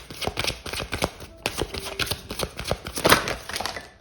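Tarot cards being shuffled by hand, a close run of crisp riffling and slapping strokes with a brief pause partway through before the quick flutters resume.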